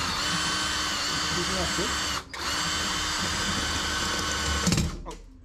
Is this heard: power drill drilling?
yes